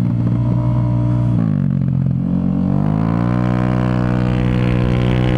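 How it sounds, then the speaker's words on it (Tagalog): A Yamaha Aerox scooter engine roars loudly and continuously on a racetrack, dipping briefly under engine braking as it shifts down, then revving back up into a rising, sustained whine. "Lakas ng makina nitong Aerox na to."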